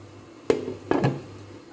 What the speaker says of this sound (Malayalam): അപ്പോൾ നമുക്കിത് അടച്ച് മൂടി വയ്ക്കാം, അടച്ച് വയ്ക്കാം, ഇത് തിളയ്ക്കട്ടെ.